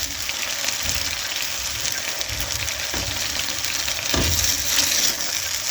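Macaroni being stirred into cheese sauce in a pan, a steady wet sizzle with soft scraping strokes and a couple of sharper clinks near the end, close and fairly loud.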